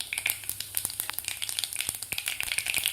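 Cumin and mustard seeds splutter and crackle in hot oil in a pan, a dense run of sharp pops and steady sizzle filling the moment with no voices.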